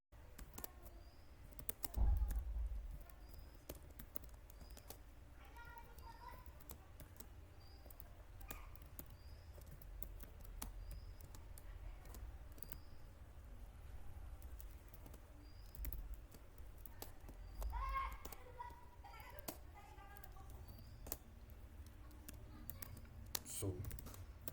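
Typing on a computer keyboard, faint scattered key clicks and short bursts of tapping in a quiet room.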